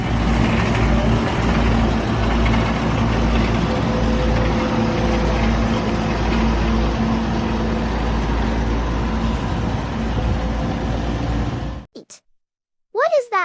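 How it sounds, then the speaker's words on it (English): A massive farm tractor on rubber tracks drives through muddy, heavy soil, its engine rumbling loud and steady close by for about twelve seconds before cutting off abruptly. "Why does this massive tractor have tracks instead of wheels? It uses rubber tracks to get better traction and prevent sinking into the muddy,"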